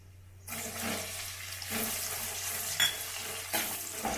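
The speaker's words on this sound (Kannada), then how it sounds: "ಇವಾಗ ಈರುಳ್ಳಿ ಹಾಕೊಳ್ತಾ ಇದ್ದೀನಿ" Onions hit hot oil with spices on a low flame for a mushroom biryani: after a half-second hush a loud sizzle erupts and carries on steadily, broken by a few stirring scrapes.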